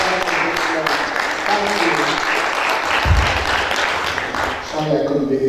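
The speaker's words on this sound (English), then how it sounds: "give yourselves a big round of applause for being here at the first event of this day" An event audience applauding together, dense steady clapping mixed with voices throughout, a brief low thump near the middle.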